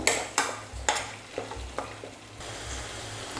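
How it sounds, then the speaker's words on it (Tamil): Chicken cooks in a pan with chilli powder and green chillies for a curd chicken gravy, giving a steady sizzle broken by several scraping stirs of a spatula against the pan, with no voices. "எல்லாம் சேர்த்ததுக்கப்புறம் பச்சை வாசனை போகிற அளவுக்கு நல்லா வதக்கிக்கலாம் ஒரு 2 நிமிஷம்"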